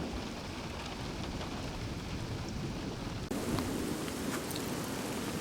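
Distant thunder rumbling through a severe storm over the Southern Tablelands, low and continuous beneath steady rain and wind noise, growing slightly louder partway through, with no voices.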